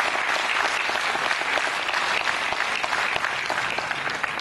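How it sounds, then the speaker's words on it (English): Dense, steady audience applause at a university event honoring a pioneer vice chancellor, a loud sustained wash of many hands clapping together with no pauses or voices over it. "I think we should clap more for him"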